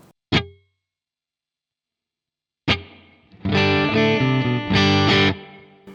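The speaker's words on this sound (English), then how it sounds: "I'm going to swap that over to a spring reverb" Two sharp plucked electric guitar notes ring out and decay with a springy splash from a spring reverb effect, then a loud, sustained distorted guitar chord pattern plays, bright and reverberant.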